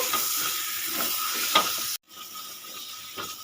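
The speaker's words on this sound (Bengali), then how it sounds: "এবার এর মধ্যে আমি একে একে কপ্তাগুলো সব দিয়ে দেব কপ্তাগুলো সব দিয়ে দিয়েছি দিয়ে একটু নেড়ে ছেড়ে নেব" Watermelon-rind koftas being stirred in a pan, a soft sizzle under light scraping stirs, a brief silent gap, then the gentle frying resumes, faint and close.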